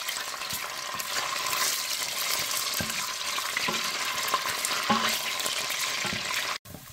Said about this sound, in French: Dans une casserole, j'ai ajouté un peu d'huile à la quantité que je veux. Et là, j'ai ma tomate que je rajoute à l'intérieur.